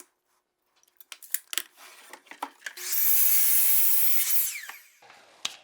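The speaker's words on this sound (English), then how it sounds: "Cut out my 10 to 20 8-inch pieces." A saw cutting wood pieces to length in a woodworking shop: scattered taps and knocks of wood handling, then a loud continuous cut of about two seconds that fades out, followed by a final knock.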